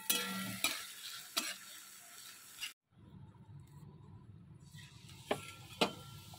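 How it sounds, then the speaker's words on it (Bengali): Luchi frying in hot oil makes a continuous close sizzle, broken by a brief pause and a few sharp clinks of a utensil against the pan. "লুচিগুলো একটু ভেজে নিচ্ছি"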